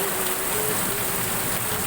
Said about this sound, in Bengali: দেখো কি জোরে বৃষ্টি এসেছে।